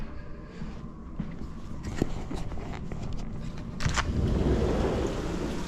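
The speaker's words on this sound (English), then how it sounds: "so the ice is falling off of the surfaces that it was frozen to, and it makes noise" Chunks of melting ice drop off frozen outdoor surfaces after an ice storm, giving scattered sharp clicks and thuds over a steady wet, hissing background.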